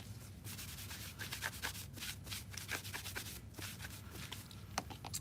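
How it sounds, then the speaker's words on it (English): Car pillar trim pieces are wiped down by hand, giving soft, quiet, irregular rubbing and brushing strokes up close that repeat throughout. "next I'm gonna wipe it down one more time"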